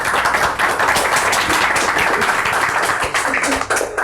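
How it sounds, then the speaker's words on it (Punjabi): A crowd claps steadily at a kabaddi player's stage appearance, a dense, continuous patter of many hands lasting throughout. "ਭਰਪੂਰ ਤਾੜੀਆਂ ਦੇ ਵਿੱਚ ਤਾੜੀਆਂ ਮਾਰੋ ਨੇ।"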